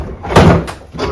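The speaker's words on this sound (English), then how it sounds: "Door comes right off." A prehung door comes free of its hinge pins with a sharp wooden thunk and rattle, followed by a softer knock, brief and close.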